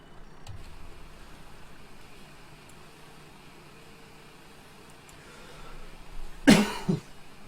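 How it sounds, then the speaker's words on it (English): A single short cough near the microphone late in the clip, breaking an otherwise quiet background with faint steady hum. "Trying to make sure the sound doesn't pick up my coughing"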